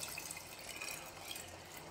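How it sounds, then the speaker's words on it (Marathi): Reserved lentil cooking water is poured into fried masala in a home kitchen, a steady, soft liquid pour with faint splashing running continuously with no talk. "आपण जे डाळीचं पाणी काढलं होतं ना तर ते याच्यामध्ये घालायचं आहे"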